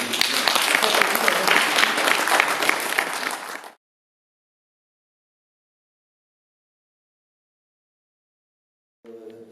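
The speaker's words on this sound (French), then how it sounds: "Un petit applaudissement, s'il vous plaît." Dense audience applause at a tribute event in Courçay for Albert Dieudonné, loud and steady for several seconds before stopping abruptly into silence, then a voice begins.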